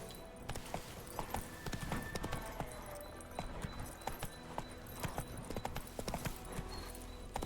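In The Witcher 3: Wild Hunt, the horse Roach trots with brisk, regular clip-clop hoofbeats, a steady rhythm of sharp close footfalls over a low outdoor ambience, without speech.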